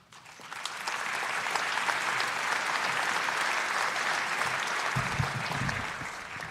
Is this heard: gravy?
no